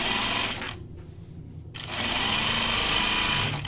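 Heavy-duty sewing machine stitching lightweight fabric, running in a loud continuous whir that stops for about a second, then resumes steadily close by.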